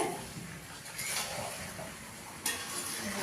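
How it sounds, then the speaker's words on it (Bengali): Potatoes sautéing in a pan for aloo dum, a steady close sizzle with scraping stirring strokes and a sharper clatter near the end. "এখন আলু কষানো হচ্ছে।"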